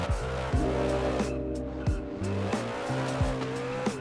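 A car of over 1,000 horsepower in a racing video game drives hard with a revving engine whose pitch climbs and drops through gear changes, broken by several sharp bursts of tire squeal.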